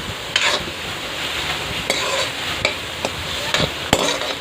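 Snake gourd and shallots sautéing in a pan for sambar, a steady close sizzle with occasional sharp scrapes and taps of a stirring spoon against the pan.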